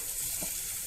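Onion sizzling in hot coconut oil while frying for a Kerala-style potato bonda filling, a steady close hiss of frying with no voices.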